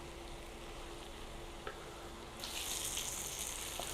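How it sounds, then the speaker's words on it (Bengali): Tomatoes and vegetables sizzle steadily in a pan while being stirred, a constant soft frying hiss that grows brighter partway through, with a couple of faint clicks of the spoon. "আমি এইভাবে নেড়ে চেড়ে টমেটোটাকে সিদ্ধ করে নিব।"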